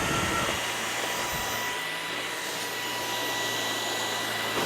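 A Samsung Jet 65 stick vacuum runs on low pile carpet with a steady, loud, close whine and rushing airflow that holds level throughout, with no talk.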